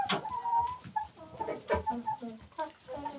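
Chickens on a farm cluck and squawk in a close, busy chorus, with overlapping calls and short sharp bursts throughout, being treated for illness.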